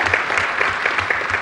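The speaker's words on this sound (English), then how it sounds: "Please give Ed Felton a big round of applause" A short burst of audience applause welcoming a panellist at a security conference debate, brisk even clapping from a room full of people, loud and close throughout.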